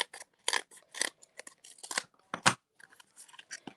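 Scissors trim the edge of basic white cardstock for a card in a series of quiet, close snips and crisp cutting crunches with brief pauses between them.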